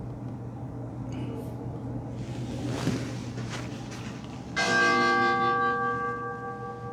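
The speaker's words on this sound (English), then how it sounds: "At the beginning, you will hear a bell ring, which indicates meditation starts." A meditation bell rings once to open a session, its clear sustained tone blooming loudly and slowly fading over a steady low hum, with faint indistinct speech-like sound before it.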